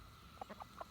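A few faint, soft clucks from backyard chickens in the morning in quick succession, quiet and somewhat distant against low background noise.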